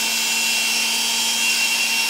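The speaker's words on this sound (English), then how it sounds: "the drill works" An electric drill plugged into a cord runs at a steady high-pitched whine, loud and close, holding constant for the whole stretch with no voices.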